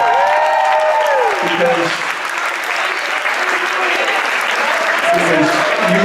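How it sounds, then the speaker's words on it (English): Loud, sustained audience applause at a School of Rock senior tribute show honouring the parents, with a voice speaking over the start and end. "I want everybody to give a huge round of applause to the parents, the School of Rock parents."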